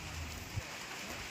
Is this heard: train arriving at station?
no